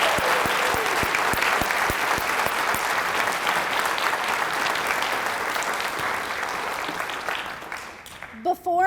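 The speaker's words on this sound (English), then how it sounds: "I would like to ask everyone to join me again in applause for our 3 finalists" Audience at a Teacher of the Year reception applauding the finalists, dense sustained clapping for about eight seconds before it fades and a voice begins.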